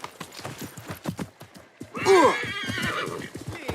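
A horse whinnies loudly mid-clip in the video game Assassin's Creed Mirage, preceded by a steady clip-clop of hooves; a voice briefly speaks beneath.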